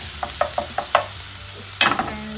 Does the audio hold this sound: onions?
yes